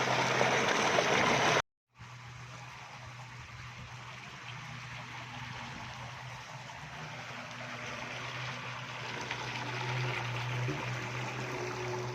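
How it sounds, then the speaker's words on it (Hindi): Water gushes steadily from a solar-powered tube well beside a sugarcane field, a loud continuous rushing flow heard close up with no talk, broken only by a brief dropout near the start. "माशाल्लाह बहुत ही ज़बरदस्त पानी है।"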